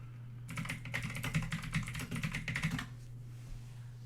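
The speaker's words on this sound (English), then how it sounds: "Hold on, I've got to type." Rapid typing on a computer keyboard, a quick burst of close, clicky keystrokes lasting a few seconds over a low background hum, then stopping.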